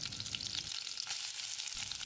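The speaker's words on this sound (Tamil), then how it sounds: "பூண்டு லேசாக செவக்கிற அளவுக்கு வதக்கிடலாம்." Steady, close sizzling of garlic frying in hot oil, a continuous crackly hiss with no voices.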